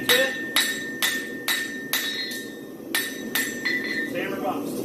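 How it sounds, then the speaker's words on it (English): A steel hammer boxes a horseshoe, a concave hind shoe being made into a front, on an anvil. Sharp ringing metallic strikes land in a steady rhythm, about eight to ten close blows with bright clanging overtones, and a few quicker light taps come near the end. "I'm going to finish hammer boxing it."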